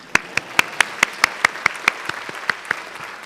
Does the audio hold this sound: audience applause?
yes